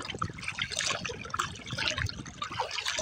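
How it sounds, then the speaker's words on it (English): Pelican kayak paddle stroking lake water on a calm morning, continuous splashing and dripping as the blade dips and lifts, close and steady with no talking. "Another Pelican paddle."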